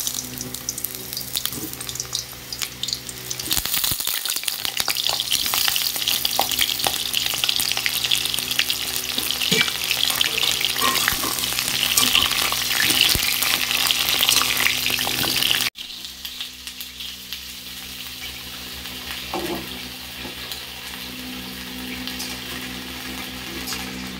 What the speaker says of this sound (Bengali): এবার এক এক করে পটলগুলো ছেড়ে দিয়ে দেবো।